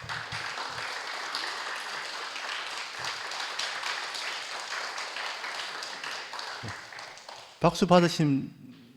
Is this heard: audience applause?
yes